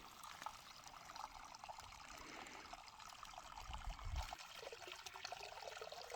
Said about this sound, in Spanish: Qué increíble cómo sale agua de abajo de la tierra.